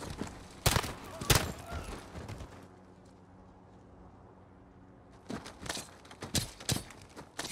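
Bursts of gunfire in Call of Duty: Modern Warfare's Piccadilly mission, two sharp loud shots early, a quieter stretch, then a rapid cluster of several shots near the end, with battlefield clatter between.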